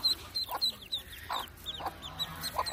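A brooding hen clucks softly and steadily at close range over newly hatched Cayuga ducklings, with high thin peeping chirps from the chicks in between.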